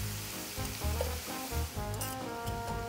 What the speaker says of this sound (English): just gonna flip them over and cook them on both sides for a few minutes